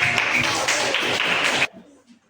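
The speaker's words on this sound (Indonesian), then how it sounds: "Oke, tepuk tangan." A roomful of classroom students gives a short, brisk round of clapping that stops abruptly, leaving faint murmurs and room noise.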